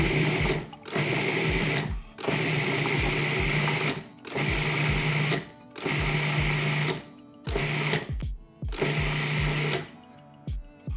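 A food processor pulses cauliflower into rice, giving about six loud motor bursts of roughly one to two seconds each, separated by short pauses, with chopping and rattling in the bowl.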